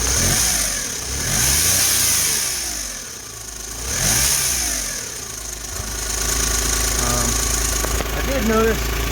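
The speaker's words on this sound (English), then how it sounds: "Not sure why my engine sounds so loud in the camera, but it's not that loud when it's actually running" A turbocharged Geo Metro engine runs steadily at close range, loud and rough, its rumble swelling and easing in slow waves with a faint whine riding on top.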